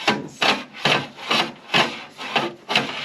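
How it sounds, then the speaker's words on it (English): Chimney sweeping rods scraping and rubbing inside a chimney flue as they are pushed to the top, a close, loud rhythmic rasping of about seven strokes in steady succession. "I've just reached the top of the chimney now with the rods"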